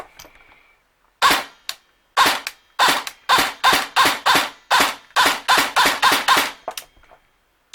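Bursts of full-auto fire from a VFC HK416C airsoft rifle running on a low-charged 7.4V LiPo battery, about a dozen short rapid strings in quick succession, loud and close with no talking.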